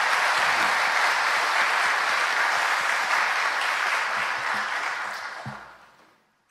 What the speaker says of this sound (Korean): 우리 그분들을 위해서 우리 박수로 함께 좀 격려해 드리면 감사하겠습니다